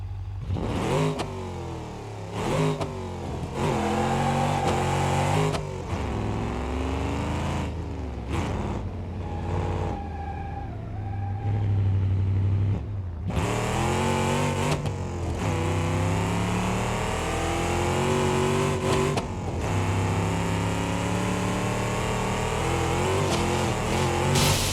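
Gavril D-Series truck with side exit exhaust in BeamNG Drive, engine revving loudly and repeatedly, pitch rising and falling in sustained pulls with short pauses between, close and alone without talk.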